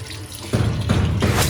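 Water runs steadily from a newly fitted wash basin tap with an aerator screen in a bathroom under tiling work, a soft foamy hiss that surges louder in short pulses, close by and with no talk.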